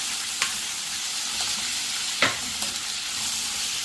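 Onions with green, red and white vegetables frying in a pan for chilli mushrooms, a steady close sizzle with a few brief stirring scrapes and clinks, no voices.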